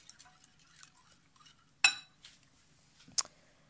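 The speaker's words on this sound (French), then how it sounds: "On mélange le tout." Utensils stirring an omelette mixture with garlic in a bowl: scattered light scrapes and clinks, with two sharper metallic knocks standing out, close and quiet between them.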